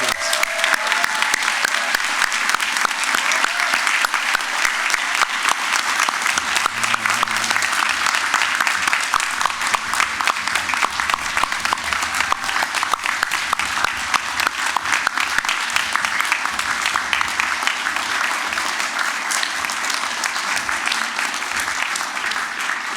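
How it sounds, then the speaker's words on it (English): Sustained audience applause for graduates at a fall university convocation, a dense, even patter of many hands clapping that carries on steadily for over twenty seconds without talk. "Perhaps everybody could just join me in a huge round of applause for our amazing graduates."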